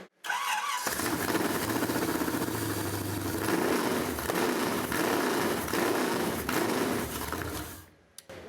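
A newly installed fuel-injected engine cranks and catches after a short pause, then runs steadily and loudly up close before cutting off near the end.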